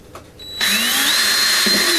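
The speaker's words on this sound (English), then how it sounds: "we're going to drill 4 holes while we're holding this" A power drill spins up and bores into the metal bezel of an ammo can battery box, a sharp rising whine that settles into a steady loud grinding drone, close and without talk.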